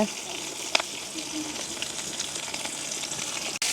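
Big onion, green chilli and curry leaves fry in a pan with a steady, close sizzle that runs throughout, one sharp clink of utensil near the start; a voice speaks faintly underneath.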